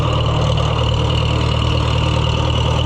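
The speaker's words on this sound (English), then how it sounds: "This is a good running old tractor." An old Case tractor engine idles in good running order, a loud, close, steady low chugging rumble with an even throb and no speech over it.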